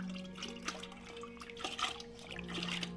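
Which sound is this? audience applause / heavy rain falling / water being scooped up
water being scooped up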